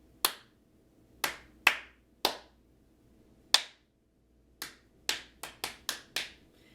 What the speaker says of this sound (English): Did you hear how some of the claps move more quickly than others? That would not be a steady beat.